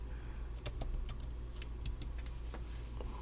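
Keyboard typing during a gaming news talk show: a scatter of sharp, irregular clicks and taps over a steady low hum, fairly close, with no voice.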